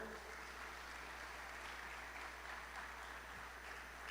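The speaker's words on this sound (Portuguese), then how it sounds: "E um aplauso bem forte ao Senhor?" Steady, dense applause from a large church congregation, sustained and even throughout with no pauses.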